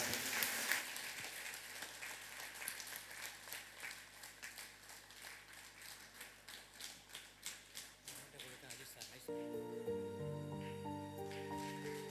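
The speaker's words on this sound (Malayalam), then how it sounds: "അമ്മയ്ക്കൊരു നല്ല കയ്യടി കൂടി കൊടുത്തുകൊണ്ട്" An audience claps at a charitable society's first anniversary event, a dense patter of hands filling the hall and fading toward the end, then giving way to music.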